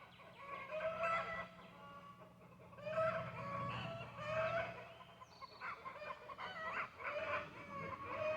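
A hen cackles after laying an egg, a run of loud repeated clucks in uneven bursts, with other fowl calling faintly in the background.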